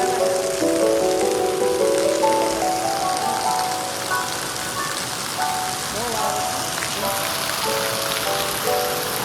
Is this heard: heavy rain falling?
yes